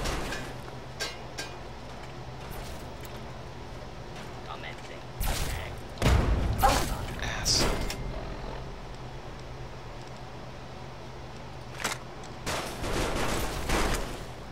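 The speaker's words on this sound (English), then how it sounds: "They were shooting each other?" Gunfire and impacts from the Fallout 3 video game: quiet irregular shots and thuds, with a heavier burst in the middle and another near the end, under low game ambience.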